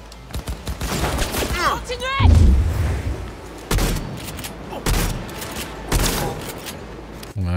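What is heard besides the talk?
shotgun gunfire in Cyberpunk 2077 video game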